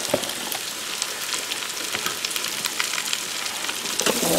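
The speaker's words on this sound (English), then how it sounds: "now that we have that all nice and sauteed up, we are going to add our potatoes" Chopped onions sautéing in an Instant Pot, a steady crackling sizzle filling the whole stretch at an even, close level, with no talk over it.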